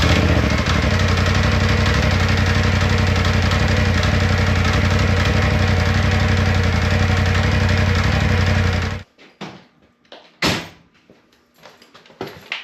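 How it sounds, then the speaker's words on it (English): A Polaris Pro XP engine runs with its clutches spinning, a loud steady mechanical drone for about nine seconds that cuts off abruptly, followed by a few scattered clunks and knocks. "we're going to crank the unit up and let the clutches kind of spin a little bit"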